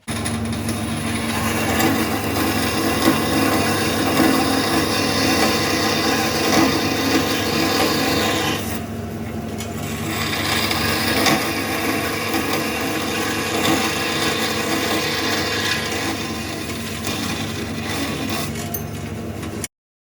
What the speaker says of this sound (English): let's go to the bandsaw